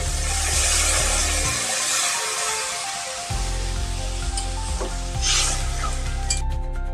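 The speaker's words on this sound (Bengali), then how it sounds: "এবার আমি এতে জল অ্যাড করব। দিয়ে দিচ্ছি জল।" Water is poured into a pan of vegetables frying with ginger, setting off a loud, close burst of sizzling that drops off briefly as it lands, then flares again with bubbling hiss and spoon stirring.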